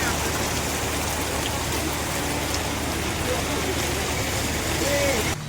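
Heavy rain pours down in a steady, dense hiss that stays constant and loud throughout, with no letup.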